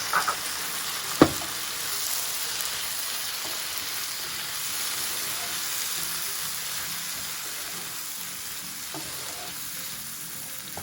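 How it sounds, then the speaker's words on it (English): Finely chopped tomatoes sizzle in a pan for an egg masala curry, an initial clatter as they drop in, then a steady, moderately loud hiss of frying with no speech. "In goes the chopped tomatoes."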